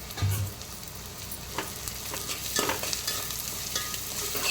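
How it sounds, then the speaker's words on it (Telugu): Onions with salt frying in hot oil, a continuous close sizzle with scattered stirring scrapes and clicks across the pan, moderately loud and steady, no speech. "బ్రౌన్ కలర్ వచ్చేదాకా వేయించుకోండి"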